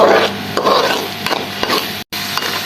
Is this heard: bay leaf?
yes